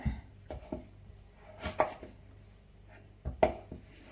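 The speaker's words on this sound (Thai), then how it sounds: "ทอดตาตำน้ำพริกกะปิเนาะค่ะ" Shrimp-paste chili dip (nam prik kapi) being pounded in a mortar: a series of dull, irregular thuds, fairly quiet and close, with short pauses between strikes.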